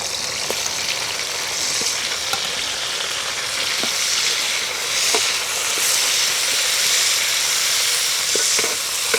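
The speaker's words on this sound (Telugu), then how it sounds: "ఎర్రగడ్డ అయితే ఏగిపోయినాయి టమాటాలు వేసేసుకుందాం" Tomatoes drop into onions frying in a pan for a potato chicken curry, with a continuous loud sizzle and scattered sharp clicks and scrapes of stirring throughout.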